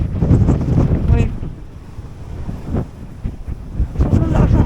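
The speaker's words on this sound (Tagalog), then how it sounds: "Sobrang lakas ng hangin" Strong gusts of wind in rural Alaska roar and buffet the microphone in uneven, loud bursts, rising and falling throughout.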